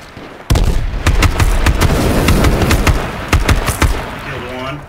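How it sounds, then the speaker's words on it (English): Heavy gunfire in the survival shooter H1Z1: a sudden loud burst of rapid, irregular shots and cracks that keeps going for several seconds, close and sharp, then tapers off into quieter noise at the end. "I'm getting shot."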